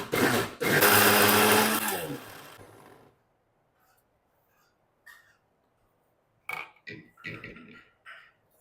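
A kitchen grinder whirs loudly for about two seconds as it grinds nuts into powder for nut praline, then cuts out, followed by quiet scraping and a few clattering knocks of the jar.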